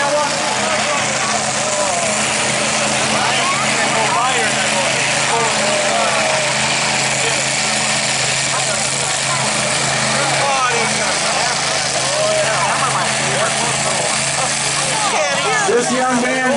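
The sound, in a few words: pro stock diesel pulling tractor engine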